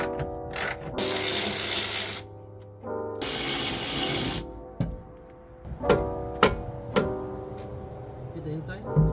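A ratchet works on bolts while rear disc brakes go onto a Honda Civic in a garage, with two long bursts of rapid clicking, then short scattered mechanical clanks and taps, and people talking nearby.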